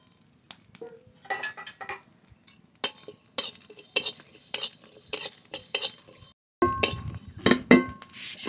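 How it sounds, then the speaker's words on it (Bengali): Coriander, cumin, two dried chillies and three cardamom pods dry-roasting in a kadai, heard as scattered scraping stirs and metallic clinks of a spatula, close by, in short bursts separated by quiet gaps. "জিরে, 2টো শুকনো লঙ্কা, 3টে এলাচ একসঙ্গে ভেজে নেব"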